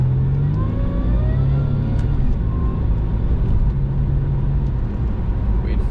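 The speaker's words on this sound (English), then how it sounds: "you guys can hear that supercharger just kind of take off and whine" A supercharged car fitted with an open air intake accelerating hard from about 15 to 70 mph, a loud, steady engine roar with a rising whine, heard from inside the car.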